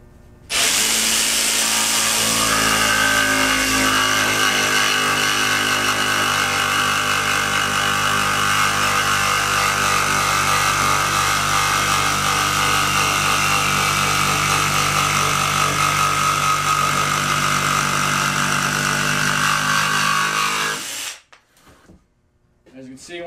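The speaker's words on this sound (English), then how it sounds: "I will go ahead and put the jigsaw to the test." Ryobi One+ brushless jigsaw cutting, using its stock blade, in a loud continuous buzzing whine that runs steadily for about twenty seconds before stopping abruptly, heard alone up close.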